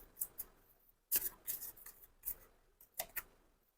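Tarot cards are shuffled close up in quick, crisp bursts of riffling and snapping, separated by short quiet gaps, with no voices.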